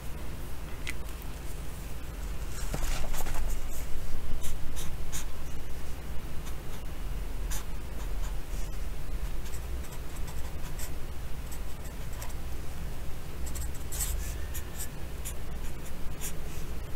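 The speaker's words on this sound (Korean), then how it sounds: "되게 오랜만에 쓴다. 사인펜." A felt-tip pen writes on a practice notebook page in a quiet indoor setting, giving a close, continuous soft scratching with small strokes and taps and no talking.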